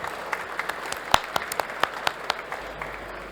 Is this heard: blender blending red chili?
no